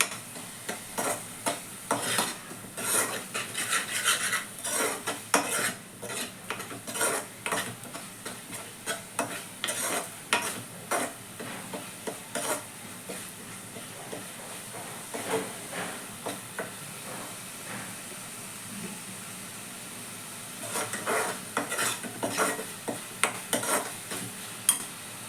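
A spoon stirs masala, salt and chilli powder in a pan for rajma curry, producing a long run of scraping, tapping strokes over a low sizzle and hiss, pausing briefly near the end before resuming.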